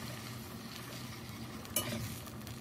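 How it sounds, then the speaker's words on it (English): Beef broth being stirred in a frying pan for hamburger steak, a steady low simmering bubble and scrape with a brief clatter of the utensil partway through, close and fairly quiet, no talking. "And just keep stirring it up."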